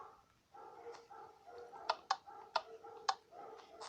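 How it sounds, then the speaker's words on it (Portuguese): A dog barks in a few sharp, short yaps spaced irregularly, faint and somewhat distant against a quiet room background. "esse cachorro são chato"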